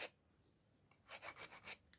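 A homemade metal crochet hook being filed smooth, a quiet pause followed by a steady run of rhythmic rasping strokes, close and fairly faint, with no voices.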